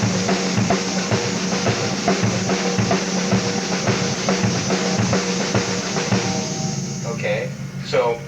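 A drum kit at a live drum clinic plays a syncopated fill of sixteenth notes grouped in threes, driving and continuous in a reverberant room, before a voice speaks briefly at the end.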